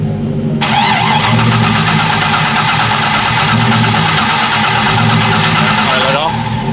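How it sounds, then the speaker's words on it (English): A C5 Corvette Z06 with headers, probably flooded, cranks on its starter and catches into a rough, loud running engine close by for several seconds before the cranking note changes, with voices in the background. "Hold your foot all the way to the floor and then crank on it."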